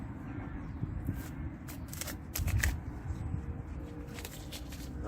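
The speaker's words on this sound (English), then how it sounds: "So I'm just going to take this tape off the end." Packing tape peeled off the end of a plant pot filled with homemade compost at an allotment, giving a few close crackly rips with the loudest tearing burst midway, over low rustling handling noise.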